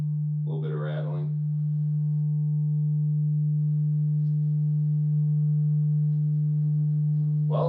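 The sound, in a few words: homemade subwoofer playing test tone, box rattling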